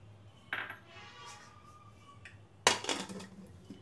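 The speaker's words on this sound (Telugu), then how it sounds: "కొద్దిసేపు జస్ట్ ఊరికే అలా మూతేసి పెడదాం" A metal lid goes onto a pot of freshly cooked green-chilli egg pulao with two distinct clanks, one sharp early knock and a louder clattering settle a couple of seconds later, over a quiet kitchen background.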